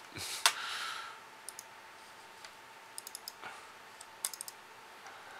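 Computer keyboard clicks in scattered short bursts of a few keystrokes each, faint and sparse against a quiet background, with no talking.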